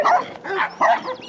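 Dogs roaming off leash in Cuenca, Ecuador bark in three quick, loud yaps close by, with no talking over them.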